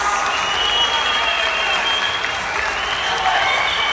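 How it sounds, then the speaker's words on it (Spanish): Crowd applauding the fighters after a unanimous decision at a women's bout of the Collision Fight Ultimate event, steady loud clapping with some cheering throughout, no talk over it. "Un aplauso fuerte para las chicas."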